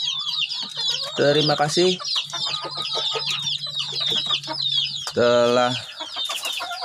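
Crossbred village chickens cluck in a close, busy flock, with short repeated calls and a couple of louder, longer squawks standing out, while a voice speaks briefly.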